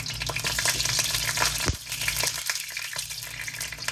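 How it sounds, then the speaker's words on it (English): Potatoes sizzle and crackle steadily in a Eurocast wok, a dense close frying hiss with occasional stirring clatter and no talk. "So what I'm going to do is just start putting these potatoes in."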